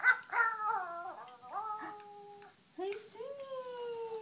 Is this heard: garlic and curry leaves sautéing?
no